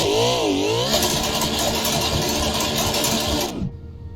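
Car engine in the driving game Assetto Corsa revving hard during a drift with too much throttle, a loud continuous roar that rises and falls in pitch before cutting off abruptly near the end.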